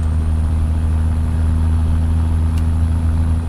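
Cummins Big Cam 855 idling in a Kenworth truck in a trucking game mod, a steady loud low diesel rumble with a constant drone and no change in pace throughout.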